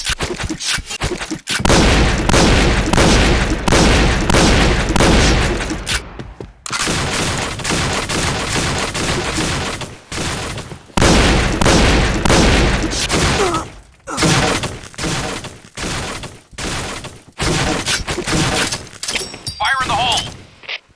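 Shotgun fire in the game Point Blank Evolution, loud booming blasts in rapid bursts separated by short pauses, mixed with game effects and announcer-style voice callouts.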